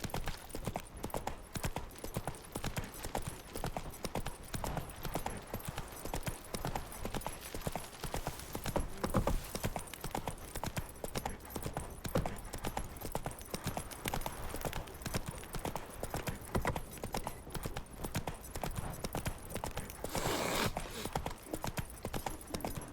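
Steady clip-clop of a horse's hooves galloping in The Witcher 3 video game, continuous and fairly loud throughout, with an occasional whinny and faint background game sounds.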